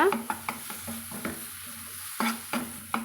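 Pirandai (adamant creeper) sautés in oil in a pan, a steady close sizzle broken by sharp scraping strokes of a stirring spoon at an irregular rhythm.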